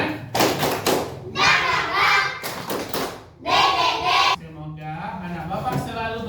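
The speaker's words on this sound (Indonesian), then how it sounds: "Tepuk semangat." A school class claps a rhythmic spirit clap together, loud bursts of clapping in a patterned beat, with children's voices chanting between the claps.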